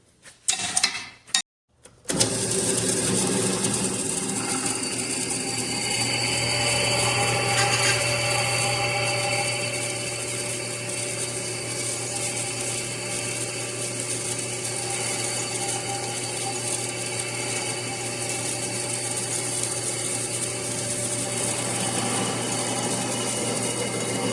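A small drill press whines after a brief start-up, then drills steadily and loudly with a strained motor hum that continues without pause.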